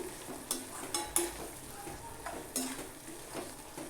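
Tomatoes frying in a pan and being stirred, a steady low sizzle broken by several sharp spatula scrapes and clinks against the pan, close and moderately loud, with no speech.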